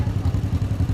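A 1956 John Deere 420T tractor engine chugs nearby in a parade, a steady low rhythmic putter of quick regular firing pulses, loud and alone.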